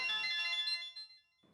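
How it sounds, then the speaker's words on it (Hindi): A short electronic phone ringtone plays a bright melodic phrase, then fades out into near silence. "बायकोचा फोन।"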